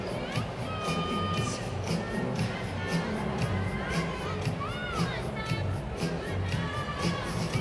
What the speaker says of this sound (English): You hear the crowd, they get into it every single time.